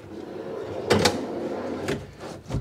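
A wooden drawer box padded at the back with cardboard and a packing envelope is pushed shut in a cabinet build, giving a sharp sliding knock followed by a softer second bump.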